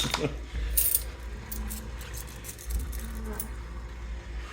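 Quarters drop and clink inside an arcade coin machine, with a sharp burst of metallic jingling at the start followed by scattered lighter clinks and rattles over a low rumbling background.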